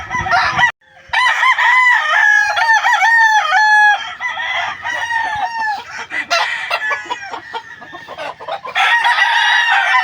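Roosters in stag pens at a farm crow in loud, close, overlapping calls, one after another with brief gaps, joined by scattered clucking and no voices.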